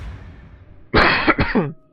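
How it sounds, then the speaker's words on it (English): Two quick, close coughs in a row, sharp and loud against a quiet room background. "I'm sorry about the coughing."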